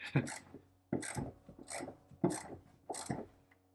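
A 3/8-inch drive ratchet on an extension works a tight bolt loose in five short, close, rasping bursts spaced about a second apart, each quickly fading.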